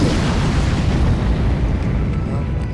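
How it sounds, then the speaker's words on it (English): A loud, dense fireball spell explosion from the Age of Wonders 3 strategy game, a continuous roaring blast that fills the whole stretch with steady rumbling noise. "Isabela can cast a spell with Fireball."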